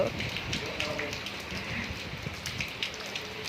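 Rain falling with a cool breeze, a soft, steady patter heard under someone talking to a child.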